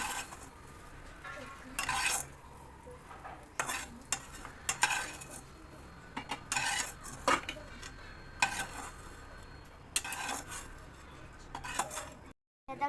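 Cooked green chillies scraped and stirred from a pan onto a plate for Marathi mirchi thecha, with repeated close utensil scrapes and clinks over a faint background sizzle.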